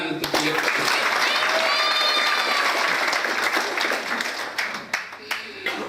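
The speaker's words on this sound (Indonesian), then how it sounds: "Tepuk tangan untuk dia." Church congregation applauding during a sermon, a dense burst of clapping with cheers and voices mixed in, tapering off toward the end as a few claps linger.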